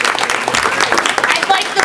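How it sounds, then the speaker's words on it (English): Brief burst of applause at a high school board meeting honoring a state championship team, many hands clapping loudly and evenly in a room with crowd noise. "Give them a round of applause."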